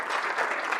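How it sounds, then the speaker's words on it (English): Brief burst of warm audience applause at a lecture event, dense clapping from a room full of listeners, close and fairly loud for under a second. "Please join me in giving Dr. Eire a warm round of applause"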